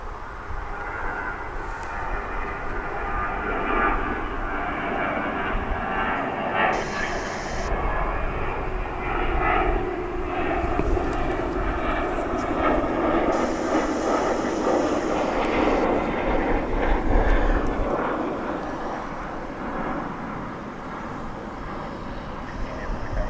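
An American Airlines jet arriving from Tucson at Dallas Fort Worth airport rumbles steadily, its engine roar swelling toward the middle and easing off, while someone talks intermittently over it outdoors.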